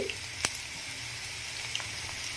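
Cauliflower and tomato pieces for a curry, with turmeric added, fry with a quiet, steady sizzle in a pan, broken by a couple of sharp utensil clicks near the start.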